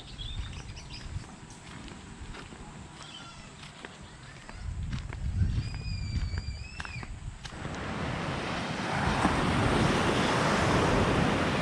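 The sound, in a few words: ocean waves on the north beach of Gili Meno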